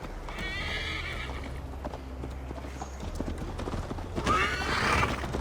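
Horse hooves clip-clop at a steady riding pace in Assassin's Creed Valhalla, with a neigh breaking in and wind and ambient game sound behind them; a louder whinny rises near the end.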